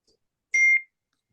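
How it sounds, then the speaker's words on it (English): A phone gives a single short, loud electronic notification beep in an otherwise quiet room. "Jen's phone is blowing up because she's popular on this Friday night"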